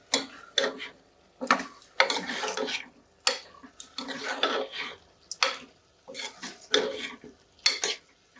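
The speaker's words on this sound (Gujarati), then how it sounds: "શાકને આપણે હલાવી દઈશું." Spoon stirring Surti papdi mixed vegetable curry in a pot, producing repeated scraping clatters in irregular bursts separated by short quiet gaps, close and fairly loud.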